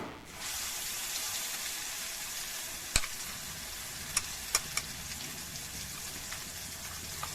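A ginger, green chilli, onion and garlic paste sizzles steadily in hot oil with bay leaves in a pan for a Bengali mustard-poppy seed carp curry, with a few sharp clinks of a utensil against the pan.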